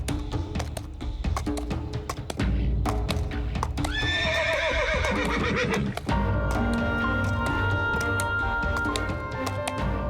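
A horse gives one loud, shaky whinny in the middle, set among steady clip-clop of hooves and stable clatter heard nearby throughout.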